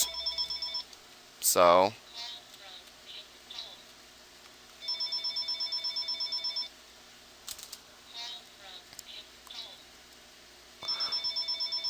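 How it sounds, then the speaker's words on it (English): A telephone rings in repeated electronic trilling bursts, at moderate volume, separated by gaps, while someone speaks briefly between the rings. "sorry about that, phone was ringing"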